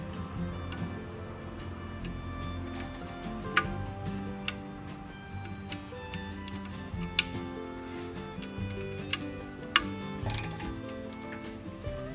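Ratchet loosening oil pan bolts on a Nissan Juke, a steady fast clicking pawl close by, interrupted by a few sharper metallic clanks.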